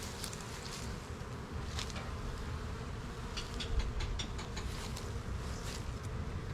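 Honey bees buzz steadily around an open hive, a continuous dense close hum with sharper flickers as individual bees fly near, and no voices.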